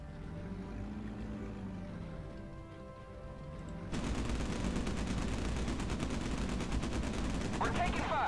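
Rapid machine-gun fire from naval combat in the World War II game Battlestations Pacific, a dense continuous rattle over the low rumble of boat engines, loud and sustained through the second half.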